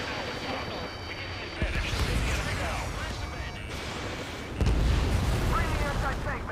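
Missiles launch and blow up in a combat video game, with booming blasts over a dense, steady roar of battle noise; two heavier impacts stand out, and voices call out over the action.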